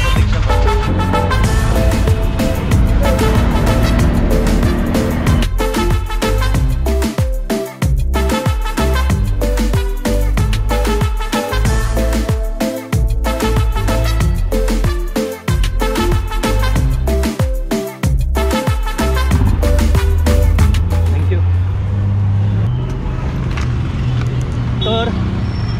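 Auto rickshaw ride through city traffic: a loud, continuous engine drone with road rumble and passing vehicles, steady and close throughout.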